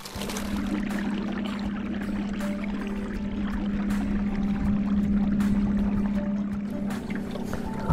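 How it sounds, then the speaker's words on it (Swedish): A motorboat runs at full speed out on a lake during an early September morning of perch fishing, its steady engine drone holding close and loud throughout with water wash, no talk. "ser jag en båt som har kommit ut nu. Full fart, han ska neråt i sjön."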